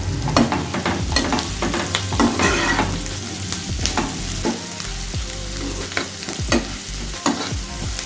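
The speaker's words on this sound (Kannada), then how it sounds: "ಇದನ್ನು ಚೆನ್ನಾಗಿ ಫ್ರೈ ಮಾಡ್ಕೊಬೇಕು ಈರುಳ್ಳಿ ಎಲ್ಲ ಚೆನ್ನಾಗಿ ಬೇಯೋ ತನಕ ಸ್ವಲ್ಪ ಫ್ರೈ ಮಾಡ್ಕೋಬೇಕು" Onions fry in a hot pan for vermicelli upma, sizzling steadily close up while a utensil stirs and scrapes in frequent rhythmic strokes.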